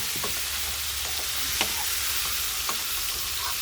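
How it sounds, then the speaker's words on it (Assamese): Pumpkin pieces sizzle steadily in a hot pan for duck curry, with a spoon scraping and clinking against the pan every so often, close and continuous. "মোৰ কোমোৰাখিনি ভজা হৈ গৈছে।"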